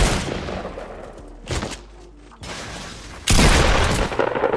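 Pump shotgun blasts ring out in a Fortnite fight, a few loud, sharp booms separated by short pauses, with the last one trailing into sustained noise.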